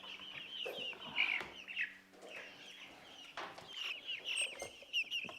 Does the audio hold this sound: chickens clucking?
yes